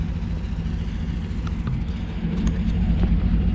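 A car doing a burnout on wide 375/45R22 rear tires, heard as a low, steady engine roar with rushing noise and a few faint squeaks, growing slightly louder toward the end.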